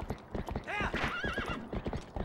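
Epona, the horse in Twilight Princess, gallops in with quick, close hoofbeats and lets out a clear, wavering neigh midway through, the clopping rhythm carrying on steadily afterward.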